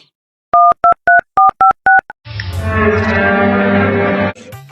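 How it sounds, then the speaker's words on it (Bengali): Eight short two-tone touch-tone beeps dial a number on a mobile phone in a village setting, evenly spaced and loud, followed by a steady buzzing ringback hum while the call connects. "মুই মোর লেবার ফোন করো"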